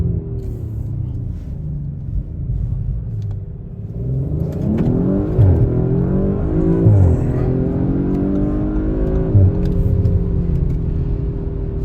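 A 2023 Audi RS5 accelerating hard from a standstill, its engine climbing through the revs with audible gear changes, loud and close, with no talking.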